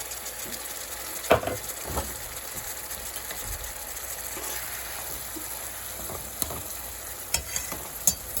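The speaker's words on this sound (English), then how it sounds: "That's what I'm cooking my shrimps in. Real salted butter." Shrimp fry in real salted butter over high heat, giving a steady close sizzle broken by a few sharp clinks and scrapes from stirring, with no one speaking.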